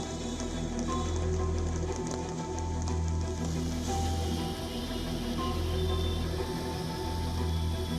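Heavy rain pours down in a Delhi downpour, a dense, continuous hiss and drumming on surfaces, steady and loud throughout with no pauses.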